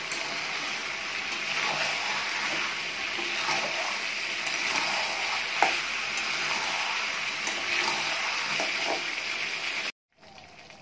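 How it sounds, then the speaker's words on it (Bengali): Chicken pieces cooking down with spices in a pan for a light chicken curry, giving a steady close hiss of frying with faint stirring scrapes throughout, then cutting off abruptly near the end. "দেখো আমার এখানে মাংসটা ভালো করে কষানো হয়ে গেছে"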